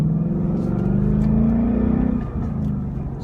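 2015-2018 Ford Mustang with a Corsa exhaust revving to about 4,000 RPM, heard from inside the car with the windows up as a deep, steady droning rumble that rises and then eases off, with no talk.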